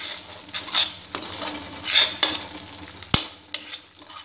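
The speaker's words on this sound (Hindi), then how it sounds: "इसको हम अच्छे से मिक्स करेंगे मलाई को मसाले में" Cream gets stirred into a sizzling tomato masala in a pan for shahi paneer, a soft frying hiss under repeated spoon scrapes and a few sharp taps against the pan.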